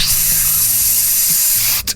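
Steady, loud hiss of an aerosol spray can held for about two seconds, cutting off briefly near the end, alone with no voices.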